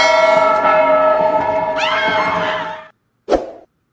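A large bell rings out close and loud, its long harmonic tone sustaining for nearly three seconds before fading, then a single short, dull second strike follows after a brief silence.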